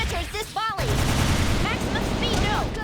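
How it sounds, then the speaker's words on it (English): Gunfire from the fighting game Persona 4 Arena Ultimax, a sharp burst followed by dense crackling shots layered with chaotic effects and voice cries during a tournament match. "Okay, gunshot."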